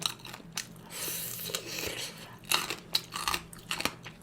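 Crunchy kkakdugi, cubed radish kimchi eaten with sundae gukbap, bitten and chewed close up in a run of loud wet crunches and chomps, with no talking over it.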